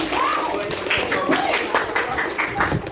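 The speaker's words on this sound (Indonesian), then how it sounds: "Tepuk tangan untuk kita semua." A class of eighth-grade students claps hands together in a classroom during a science lesson, a steady patter of overlapping claps running throughout, with voices talking over it.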